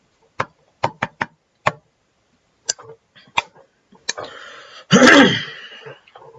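A series of sharp, short coughs and throat-clearing bursts from one person comes up close and alone, spaced irregularly, ending in a longer, rougher hack.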